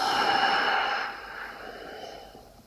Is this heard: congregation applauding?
no